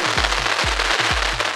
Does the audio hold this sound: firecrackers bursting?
yes